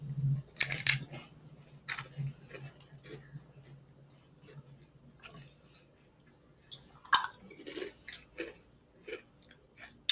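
A potato chip like plain Ruffles gets crunched close to the mic in a few loud, crisp bites, followed by softer scattered chewing and rustling in a quiet room.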